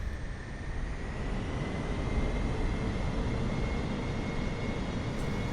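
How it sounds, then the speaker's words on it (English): A 747 shuttle carrier landing roughly in Microsoft Flight Simulator 2020 produces a steady, loud roar of engines and rushing air that holds without a break for the whole stretch. "that was a rough landing"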